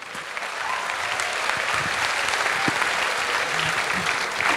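An audience at a talk with a politician gives steady, dense applause that stays even and fairly loud throughout, with no voices over it.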